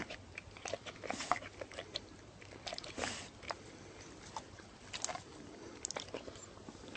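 A dog chews and bites into pizza indoors, giving close, irregular crunching and wet mouth sounds in short bursts over several seconds, with no talking.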